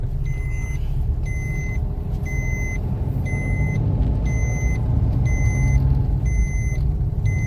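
A car drives steadily in third gear, its low engine rumble constant and fairly loud throughout, while a higher electronic beep repeats at regular intervals over it.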